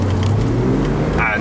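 A car driving close behind, its engine giving a steady, loud hum with a low tonal drone, ending with a brief higher whine.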